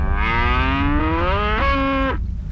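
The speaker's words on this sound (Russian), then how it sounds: "Бедные быки." Cattle at a bull-riding championship in Brazil give one long, loud, drawn-out bellowing moo that shifts pitch partway through, heard alone without talk.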